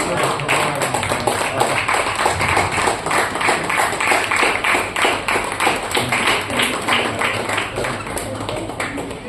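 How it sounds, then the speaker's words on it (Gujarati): A seated audience at an honoring ceremony for elders claps warmly as a guest is welcomed onto the stage, a dense, even patter of many hands held steady for several seconds. "જોરદાર તાળીઓથી આપણે વધાવી લઈએ."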